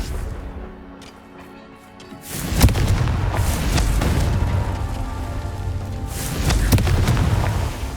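Confringo explosive spell cast in Hogwarts Legacy: a sudden loud blast bursts in after a quieter stretch, then a dense crackling rumble lingers for several seconds, swelling again near the end.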